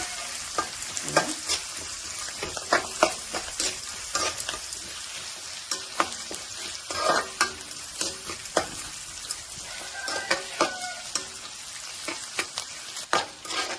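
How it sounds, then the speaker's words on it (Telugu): Curry leaves fry in a pan for a drumstick and moong dal curry, giving a steady close sizzle broken by frequent scraping stirs, with no talking. "కరివేపాకు మొత్తం ఫ్రై చేద్దామండి"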